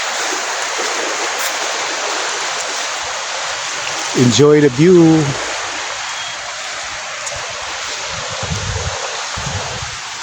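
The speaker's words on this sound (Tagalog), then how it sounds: "Nindot kayo paminaw ng dagat" Sea waves wash steadily onto a white sand beach, a constant airy surf rush with some wind, while a voice speaks briefly over it near the middle.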